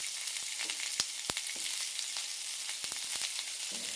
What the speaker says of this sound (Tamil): இப்போது வெங்காயத்தை நல்லா வதக்கி விட்டுக்கோங்க.